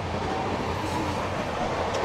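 Indian sleeper train moving on its rails, a steady, loud rumble with rolling rattles and faint metallic squeals heard from inside the carriage.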